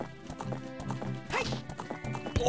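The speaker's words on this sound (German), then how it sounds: "Boah, und da ist Ganons Pferd." Ganon's horse trots in the Ocarina of Time video game, a steady rhythmic clip-clop of hooves over game music, with a short whinny-like burst in the middle.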